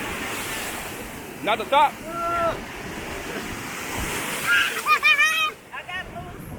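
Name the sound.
ocean waves at a San Diego beach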